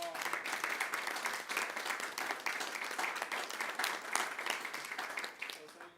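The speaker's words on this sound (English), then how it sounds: "let's give him a round of applause" An audience at a university advisory board meeting gives a round of applause, a moderately loud burst of many hands clapping that holds steady and then tapers off near the end.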